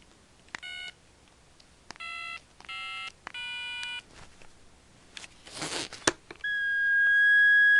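An old telephone's keypad sounds a series of separate button tones, several short beeps in a row, then a burst of static and a steady rising tone, with faint line hiss between.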